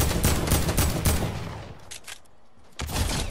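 Rapid bursts of gunfire crackle through a video game arena match, loud dense volleys that ease off briefly before another sharp burst near the end.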